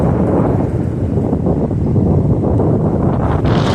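Strong gusty wind sweeps across a summer chicken farm, a loud, continuous buffeting rumble that fills the whole stretch with no voices.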